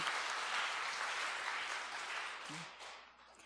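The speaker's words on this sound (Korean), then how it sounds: "박수 한번 크게 쳐주시고 시작할까요?" A church congregation at a Sunday afternoon teachers' dedication worship service applauds the teachers, a steady wash of many hands clapping that holds, then slowly fades near the end.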